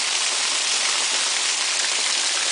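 Steady rain pours onto rooftops and a sidewalk on the day before Hurricane Irene in 2011, a dense, even hiss of falling water that holds constant throughout with no voices or thunder.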